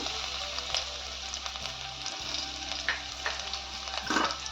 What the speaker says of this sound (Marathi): तेल तापलं की आपण त्यात लसूण ठेचलेली टाकून घ्यायची आहे